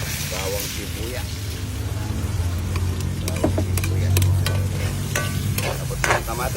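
Garlic and onion sauté in a pan at an outdoor cooking spot, a steady sizzle with stirring scrapes and clinks over a constant low background hum, with voices talking nearby.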